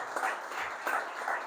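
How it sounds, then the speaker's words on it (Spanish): Church congregation at a Spanish-language sermon giving a short burst of applause, a dense patter of many hands clapping at moderate distance, fairly steady throughout. "Démosle un fuerte aplauso al Señor por esa preciosa promesa."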